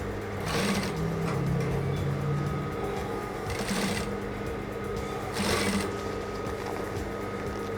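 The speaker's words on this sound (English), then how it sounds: "now I will be top stitching on the wrong side of the pocket bag" A sewing machine runs steadily, top stitching the wrong side of a trouser pocket bag, a close continuous buzzing whir with slight rises in speed and a few brief rustles of fabric between bursts.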